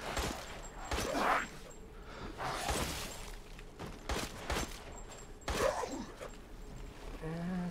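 Gunfire in the video game Resident Evil Village, a few sharp shots with whooshing and impact noises spread across several seconds, moderately loud over a steady background hum.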